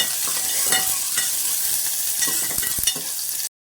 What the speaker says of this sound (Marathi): तेल तापलेलं आहे कांदा घालते